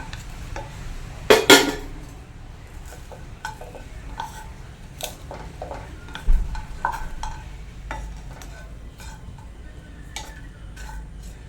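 Spices roast slowly in a pan for homemade sambar powder, with soft background frying hiss under scattered spoon stirs, light scrapes and clinks, including one sharper knock early on.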